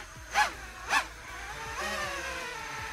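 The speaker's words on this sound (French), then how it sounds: "Beau petit bruit. Ils sont vraiment énormes ces moteurs." Two sharp whooshing revs, then a steady high-pitched whine from the large motors of an Eachine LAL5 drone builds and holds, close and moderately loud.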